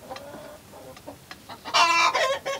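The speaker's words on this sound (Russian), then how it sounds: "Зеленолапая курочка и петушок поели нормально." Chickens, including a green-legged hen and a rooster, cluck in short bursts close by, building to a louder, busier run of clucking near the end with no talk.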